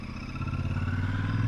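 A Royal Enfield Super Meteor 650 motorcycle engine thrums steadily while riding in traffic, a low rhythmic parallel-twin drone picked up on an action camera mic, rising slightly and unbroken with no talking.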